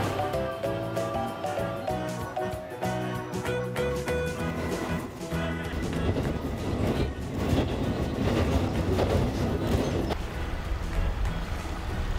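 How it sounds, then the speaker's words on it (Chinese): Small electric train running along a railway line in Shimabara, Japan, a steady loud rumble and rattle of the carriage on the rails with musical tones, heard continuously from on board. "那我们现在就准备坐这个非常可爱的这个电车"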